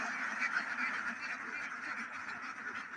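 Ducks feeding loose on an open beel wetland make a faint, distant, continuous chatter of quacking, with no single call standing out.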